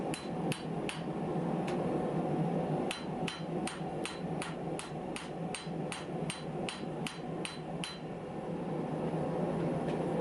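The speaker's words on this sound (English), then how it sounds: "then you start forging it and you squeeze more copper out" A hammer strikes a hot copper and cable filled canister billet during knife-making forging, a long series of sharp metallic blows at an uneven pace, close and ringing over a steady background roar.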